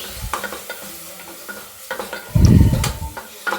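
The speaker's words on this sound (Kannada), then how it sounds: "ಇಲ್ಲಿ ಉಪ್ಪು ಹಾಕಿದ ಮೇಲೆ ಖಾರ ಮತ್ತು ಅರಿಶಿನ ಹಾಕಿ ಚೆನ್ನಾಗಿ ಫ್ರೈ ಮಾಡ್ತಾಯಿದ್ದೀನಿ." Chili powder and turmeric fried with salt in a pan for a cluster bean stir-fry, with spoon stirs and scrapes followed by a loud sizzling burst midway, all without any talking.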